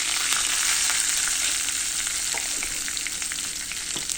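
Sesame seeds crackling with curry leaves and asafoetida in hot oil, a loud, dense, continuous sizzle with scattered sharp pops, close by and steady throughout.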